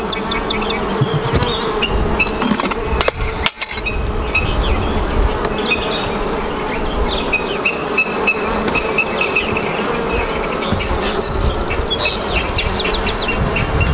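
Honey bees buzz steadily and densely at an open hive as frames are lifted, a loud, continuous hum with a brief knock partway through.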